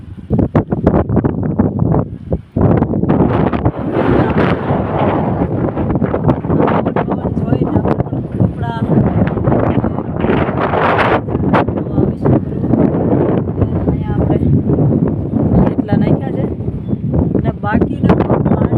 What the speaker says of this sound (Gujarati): ને પવન છે જોરદાર